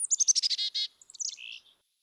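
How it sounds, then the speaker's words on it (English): A small, fast backyard bird gives an extremely high-pitched, robotic call, a quick series of bright chirps followed by warbling electronic-sounding notes, close and clear with no other sound. "Their call is an extremely high-pitched, robotic sound like R2-D2."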